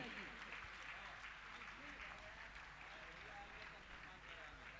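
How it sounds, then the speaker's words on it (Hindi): Steady clapping from an audience honouring newly joined trustees at a Jain temple gathering, a continuous faint wash of applause with voices mixed in, heard quietly and evenly throughout. "इनके सम्मान के लिए तालियां बजती रहनी चाहिए"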